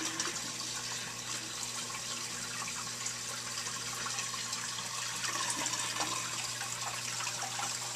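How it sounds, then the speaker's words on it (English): Water in a reef aquarium sump pours over into the second compartment as a steady, even trickle and rush with a low hum underneath, constant and moderately close. "the water overflows into the second compartment here"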